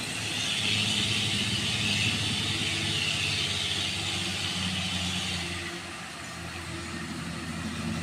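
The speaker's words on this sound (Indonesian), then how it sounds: "Ini dia truk susu." A heavy milk truck engine drones steadily while climbing a hill, loud and close, with a low rumbling labor that eases slightly near the end.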